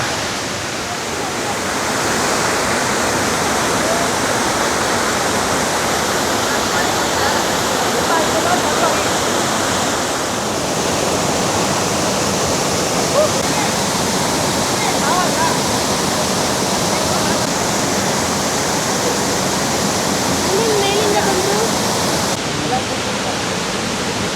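Abbi Falls at Mookana Mane near Sakleshpur roars as a dense, constant wash of falling water, loud and close throughout, with faint voices briefly rising under it near the end.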